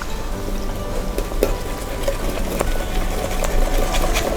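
Fish-and-chips batter being stirred after cold soda is poured in, a steady fizzing, bubbling wash with soft scraping of the mixing tool, close and continuous with no talk.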